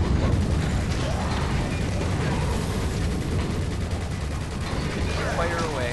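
Video game gunfire pours out continuously with unlimited ammo and no reloading, a dense, loud, unbroken barrage of rapid shots and mechanical clatter lasting the whole stretch.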